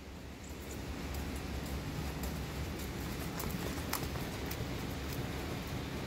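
A horse cantering in a children's English pleasure class at a horse show produces a faint, rhythmic patter of hoofbeats on arena footing, with brief sharper clops over a steady background hum.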